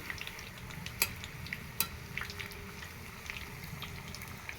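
Luchi fry in hot oil at home, a faint bubbling sizzle broken by a couple of crisp clinks from a utensil, quiet and close.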